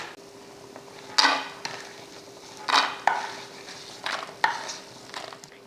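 Peanuts and dried red chillies roasting in oil in a pan, with a faint sizzle under several distinct scraping stirs of a spoon, spaced about a second apart.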